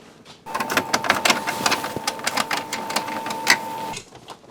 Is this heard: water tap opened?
no